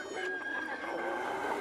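A free-ranging hen clucks and crows nearby in an outdoor farmyard over steady background noise, a continuous run of fowl calls lasting a couple of seconds.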